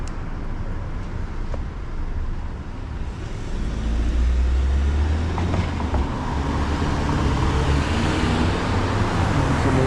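Dense city traffic on a street in San Francisco's SoMa district at sunset, with many cars passing in a continuous loud roar of engines and tires, swelling as heavier vehicles rumble close by.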